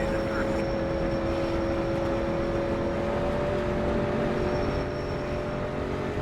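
Street stock race car engine at Martinsville in the iRacing sim, a steady droning roar with a held pitch and constant loudness throughout, no gear changes or pauses, running under speech.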